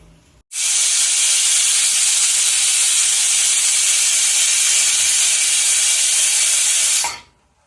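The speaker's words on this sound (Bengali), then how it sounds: "আলুটা সিদ্ধ করে নিচ্ছি আমি প্রেশার কুকারে" A pressure cooker boiling potatoes lets out one long, loud, steady hiss of steam that starts abruptly, holds evenly for about six and a half seconds, then cuts off, with no talk over it.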